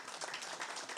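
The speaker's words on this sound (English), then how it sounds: "give her a round of applause" Applause for a woman CEO of Ngezi at a Zimbabwe football event: a dense, steady wash of many hands clapping, loud and continuous throughout, with no talk over it.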